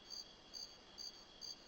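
Crickets chirp in ambient jungle background of the GoldenEye 007 video game, four evenly spaced, soft pulsed bursts over a steady faint hiss, with no voices.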